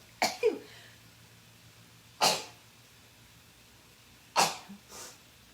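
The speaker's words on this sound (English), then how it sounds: "I'm going to sneeze every single time." Three sharp sneezes, set off by a cut jalapeño pepper, burst out a couple of seconds apart, close and fairly loud, with short breathy tails after each.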